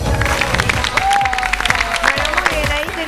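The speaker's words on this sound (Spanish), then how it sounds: "Un aplauso, les pido." A crowd breaks into applause at a gathering, mixed with cheering and a voice over a sustained tone, all close and loud for a few seconds.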